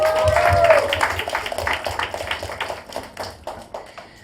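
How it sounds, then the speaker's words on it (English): Audience at a panel discussion with special guests applauding, a dense round of clapping that starts strong and gradually thins and fades over several seconds, with a brief tone and some voices underneath. "I think she deserves a round of"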